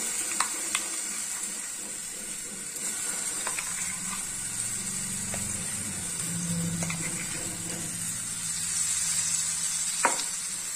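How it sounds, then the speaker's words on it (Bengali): Dates are stirred and softened in hot ghee in a pan, giving a constant close sizzle with occasional light scrapes and taps of the spoon, and no voices. "এই খেজুরটাকে আমি এর মধ্যে ঘিয়ের মধ্যে একটু নেড়ে নেবো, মানে সফট করে নেবো আর কি"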